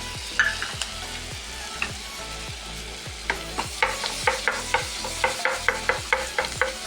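Chopped garlic fries in butter in a pan, a steady sizzle under repeated sharp scraping and clinking strokes of a spoon stirring against the pan.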